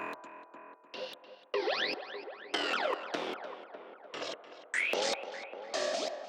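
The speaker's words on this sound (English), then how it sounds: "Hear that glidey effect it created every time the audio is crossing the threshold" A synth sound run through a filter plugin, its cutoff gliding in sweeping arcs each time the signal crosses the envelope threshold, with the sequencer switched off; bright chopped bursts rise and fall repeatedly, loud and alone.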